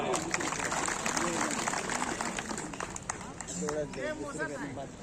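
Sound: crowd applauding at wrestling match

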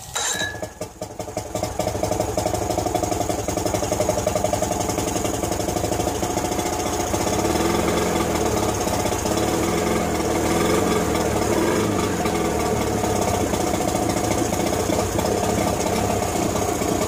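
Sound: 1990 Evinrude 40 HP outboard motor starting and running

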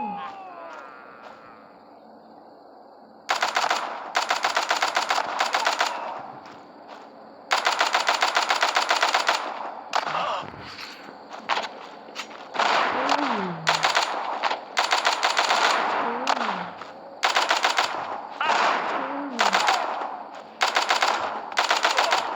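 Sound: gunfire, from video game The Walking Zombie 2: Shooter

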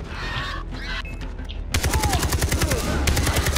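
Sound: mounted gun turret firing in video game Far Cry 3

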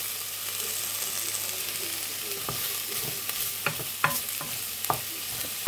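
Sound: chicken frying in a pan

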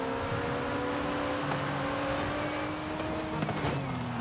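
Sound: car driving in a video game

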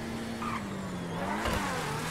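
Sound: Deveste Eight car accelerating in video game GTA Online

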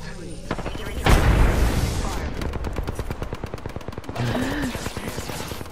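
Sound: gunfire in Apex Legends video game

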